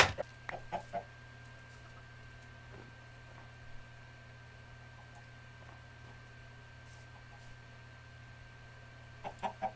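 A Minecraft chicken clucks in short bursts at the start and again at the end, with a quiet, steady game hum between them.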